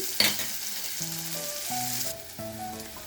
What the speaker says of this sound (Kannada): ಈಗ ಸಿಂಪಲ್ಲಾಗಿ ಒಂದು ಒಗ್ಗರಣೆ ಹಾಕೋದು ತೋರಿಸ್ತಾ ಇದ್ದೀನಿ